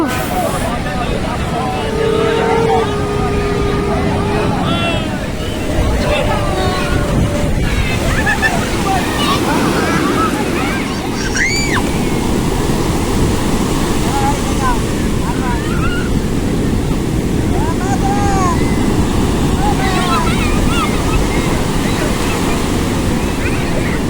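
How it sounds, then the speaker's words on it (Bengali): Sea waves roll steadily onto the beach at Puri, a continuous loud roar of surf with wind buffeting the microphone, while faint voices and calls from people nearby are heard. "ফাইনালি চলে এসেছি আমরা সমুদ্রে।"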